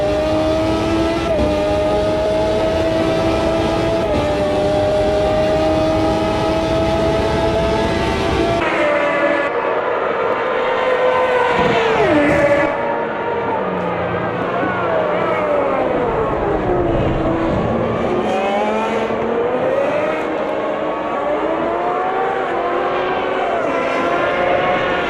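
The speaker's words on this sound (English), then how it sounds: "Trackside at Interlagos, we continue to enjoy the sound of the Formula One cars." Gen 1 HiTech Formula One cars scream past trackside at Interlagos in a racing sim, the engine note rising and falling loudly, then dropping to a quieter, more distant whine with shifting pitch as cars come and go.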